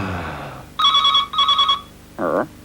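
Old-style telephone bell ringing in a 1980s British TV advert, two bright bursts of clattering double rings close together, followed by a brief separate electronic tone.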